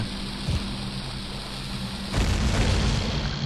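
A bomb bursts in Zelda Ocarina of Time Master Quest, with a dull booming blast partway through that swells into a rumble, following a low steady background drone.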